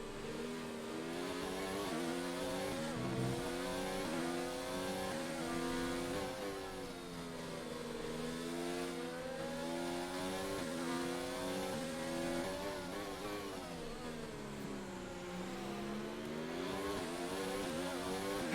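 Formula 1 car engine in F1 2019 at the Bahrain Grand Prix, held at full throttle and climbing and dropping through gears in a steady, loud, close-up wail that never lets up.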